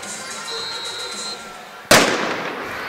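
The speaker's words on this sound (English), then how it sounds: "One more cannon shot just for good measure." A ceremonial cannon fires once during an Army versus Navy men's soccer match at a stadium, a sudden loud boom that rolls into a lingering crowd-like rumble after a stretch of steady ambient noise.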